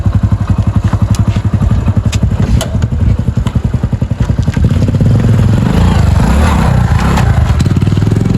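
Activa scooter engine running close by, a rapid steady putter that grows fuller and louder partway through as the scooter pulls away, with a faint clatter over it and no talking.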